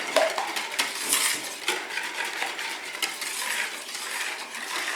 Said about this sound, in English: You just want to make sure everything is thoroughly whisked together